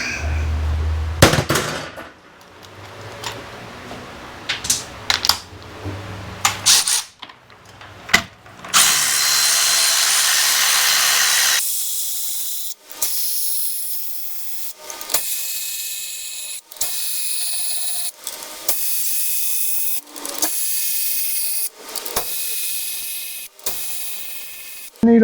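A ratchet wrench and power tool work bolts on a 700cc engine kit: loud whirring drill bursts early on, then a long run of sharp, evenly spaced ratchet clicks up close.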